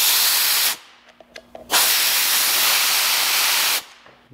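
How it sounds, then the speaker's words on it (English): Compressed air blasted into the port of a disc brake caliper on a Ford 9 inch axle conversion, two loud sustained hissing bursts separated by a brief pause with small clicks. "we're just going to blast a little bit of compressed air inside this port"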